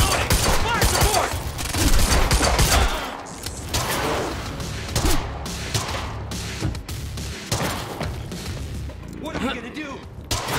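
Rapid bursts of gunfire and heavy volleys crack through a campus escape firefight in the video game Quantum Break, with shouted voices and a crash mixed among the shots.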